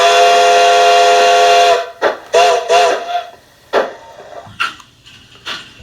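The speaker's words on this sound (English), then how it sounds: "Now let's blow the whistle." A loud, steady whistle blast with strong harmonics, followed by shorter whistle bursts and brief toots that fade in and out.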